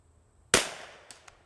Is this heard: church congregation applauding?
no